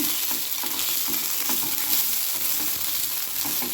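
Cooked ammini kozhukattai dumplings tossed into a pan with asafoetida tempering, a dense, continuous sizzle with light stirring scrapes, close and without talk.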